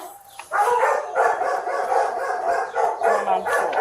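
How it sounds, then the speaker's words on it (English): Several dogs bark at a house, a loud, busy chorus of overlapping barks and yips heard close by, continuing throughout without pause. "It's amazing to me they have dogs."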